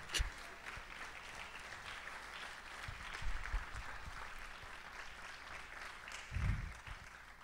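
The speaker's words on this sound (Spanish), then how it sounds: "Aleluya, denle un aplauso al Señor." A church congregation applauds during a sermon, a steady spread of clapping at moderate level with a few low thumps rising briefly, no talk heard.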